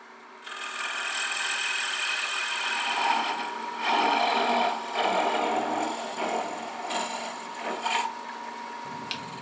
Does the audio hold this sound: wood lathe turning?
yes